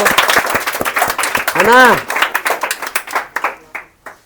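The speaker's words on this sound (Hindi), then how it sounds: "जरा जोरदार ताली से बाबू इसका स्वागत कीजिए बाबू" An audience claps to welcome a participant onto a quiz-show stage, brisk hand claps mixed with someone talking, the clapping thinning into scattered separate claps toward the end.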